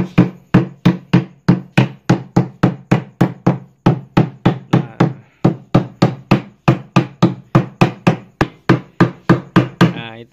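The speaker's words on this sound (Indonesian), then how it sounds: "Itu gunanya kenapa kita perlu palu untuk ngencengin staples tembaknya itu" A hammer taps staples into a wooden screen printing frame in a steady series of about thirty sharp, ringing knocks. The blows are loud and close with even spacing and a brief pause near the middle.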